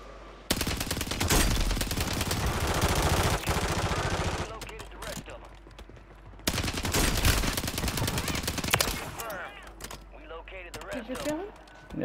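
Rapid automatic gunfire in the Call of Duty Warzone video game, dense bursts of shots for several seconds, a short lull, then another long volley with scattered shots and a voice talking over the action.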